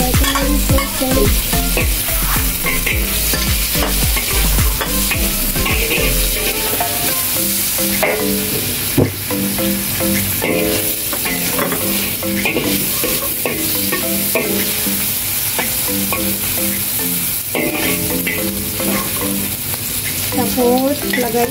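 Sausage frying while being stir-fried in a pan for fried egg noodles, a dense continuous sizzle with repeated scraping and clattering of a utensil against the pan, close and steady throughout.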